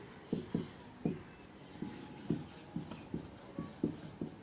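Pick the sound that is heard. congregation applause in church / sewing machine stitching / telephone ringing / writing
writing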